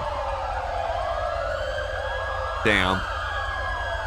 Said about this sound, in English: all the sirens are making my fucking head go like crazy right now.